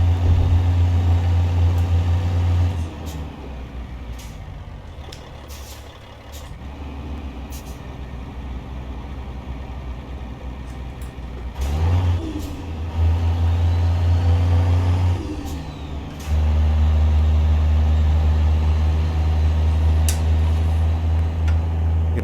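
A Cat 3176 diesel in a Peterbilt 357 log truck in American Truck Simulator drones loud and close from the cab, dipping and swelling as the revs change, with a few brief clicks and hisses over the steady rumble.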